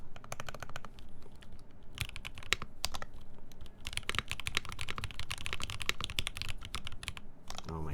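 Rapid clicky keystrokes on a custom-built keyboard, with quick bursts and short pauses, close and crisp, no talking.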